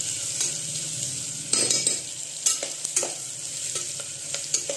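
Salted onions frying in a pan for a village-style sandge curry, a steady close sizzle broken by scraping stirs of a spoon against the pan.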